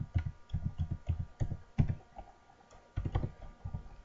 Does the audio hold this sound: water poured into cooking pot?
no